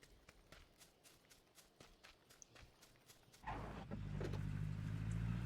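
In a PUBG match, a vehicle starts up and rumbles loudly from mid-clip after a stretch of faint footstep-like taps. The engine drone holds steady through the end.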